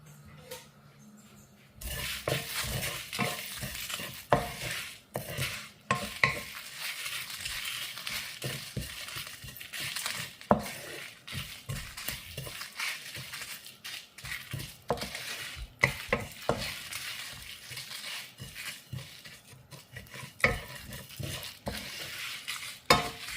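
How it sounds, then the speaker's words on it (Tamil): Cardamom pods, cinnamon stick and cloves dry roasted in a pan, a steady dry rattle with repeated scraping stirs and faint sizzling, close and continuous for over twenty seconds, with no talk. "இது கூட 2 ஏலக்காய், 1 பட்டை, 1 கிராம்பு. இதையும் வானலில் போட்டு நல்லா வறுத்து எடுத்து"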